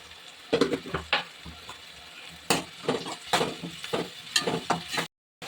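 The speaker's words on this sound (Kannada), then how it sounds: "ಒಂದು ಅರ್ಧ ಸ್ಪೂನ್ ಅರಿಶಿಣ ಪುಡಿ, ರುಚಿಗೆ ತಕ್ಕಷ್ಟು ಉಪ್ಪು ಹಾಕಿ ಫ್ರೈ ಮಾಡಬೇಕು" Ginger-garlic paste frying in a pan with turmeric and salt, a close, irregular sizzle broken by scraping spoon strokes and light clatter against the pan, cut off by a brief silence near the end.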